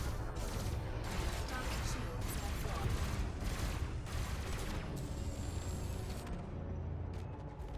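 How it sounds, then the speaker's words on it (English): Rapid bursts of synthetic spaceship cannon fire in Elite Dangerous crackle and boom in quick succession, dense and continuous, with a voice talking underneath. "Can't beat my class 4 cannons!"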